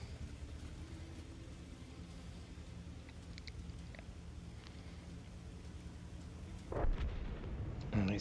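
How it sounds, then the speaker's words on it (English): A World of Tanks artillery strike lands as a low rumbling boom near the end, rising out of a quiet, steady battlefield drone with faint distant shots earlier. "he's been taken out by an artillery strike"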